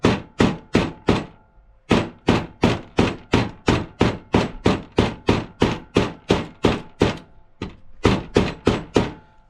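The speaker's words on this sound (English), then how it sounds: "I'm just going to work this hammer kind of around the edge" A hammer strikes around the edge of a part on a Ford F150 in a rapid, steady series of about twenty sharp, close, loud knocks, with one brief pause midway.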